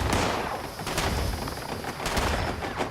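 Rapid enemy gunfire in Fallout 76 crackles continuously, with dense overlapping shots and bursts aimed at the player, loud and steady throughout the scene.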